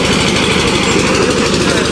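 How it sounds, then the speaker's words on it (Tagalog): Spinning machinery at a gold processing plant drones loudly and continuously nearby, with a fast rhythmic mechanical pulsing throughout. "planta ng pagpaprocess ng ginto. Yun. Basta may makina na umikot-ikot"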